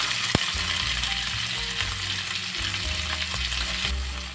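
Chopped onion is sautéed in a pan, giving a dense, continuous frying hiss with occasional scraping stirs and a sharp utensil knock near the start. Nobody speaks.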